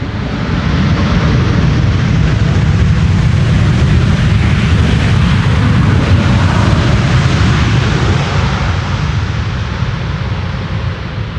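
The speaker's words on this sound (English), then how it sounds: "Functional reversers on the Air Canada Dreamliner." An Air Canada Boeing 787 Dreamliner lands on runway 18R at Amsterdam with its thrust reversers deployed, producing a loud, continuous broadband roar that holds steady for about eleven seconds before easing slightly at the end.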